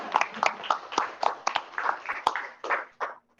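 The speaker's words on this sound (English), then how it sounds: "Yes, we're clapping again" An audience at a presentation on bathymetric data gives steady applause, with quick overlapping claps from many hands at a moderate distance that taper off and stop near the end.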